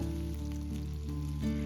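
Chicken wings frying in a generous layer of oil in a pan over medium-low heat, a steady soft sizzle and light spattering, close and continuous with no voices.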